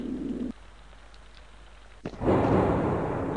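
Thunder from a lightning strike in the video game Alone in the Dark: The New Nightmare: a sharp crack near two seconds swells into a loud, sustained rumble over a bed of rain.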